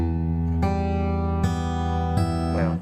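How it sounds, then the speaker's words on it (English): An acoustic guitar is fingerpicked with a fingertip that has no nail, giving four soft, rounded plucks spaced under a second apart, each letting the strings ring on closely and steadily. "this one finger that doesn't have a nail on it because it broke, it sounds like this."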